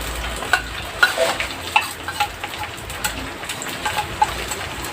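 Spices frying with duck meat and potatoes in a pan over a clay stove, a steady close sizzle with irregular stirring scrapes and clacks.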